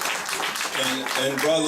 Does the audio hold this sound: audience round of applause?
yes